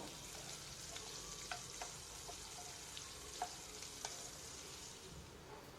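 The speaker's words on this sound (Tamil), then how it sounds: "அதை போட்டு வெங்காயம் நல்லா பொன்னிறமாக வர வரைக்கும் வதக்கி விட்டுக்கோங்க" Long-sliced large onions sauté in hot oil with bay leaf and green chili for egg biryani, a steady soft sizzle broken by occasional sharp clicks and scrapes of stirring, close and fairly quiet.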